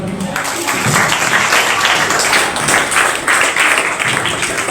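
Audience at a debate competition clapping steadily for a participant, a dense continuous patter of many hands filling the room at moderate loudness with a few voices mixed in.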